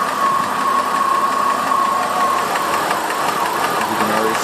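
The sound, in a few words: 2002 Ford Escape engine rough idling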